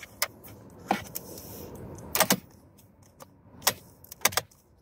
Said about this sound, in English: this is the original key, and the complaint is we insert the key